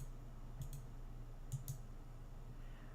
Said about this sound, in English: I'm just clicking finish today so I can see.